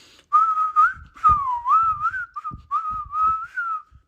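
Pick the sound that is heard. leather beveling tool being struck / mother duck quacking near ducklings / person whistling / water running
person whistling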